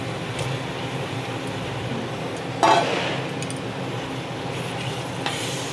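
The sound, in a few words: stirring spinach into paneer curry in a pan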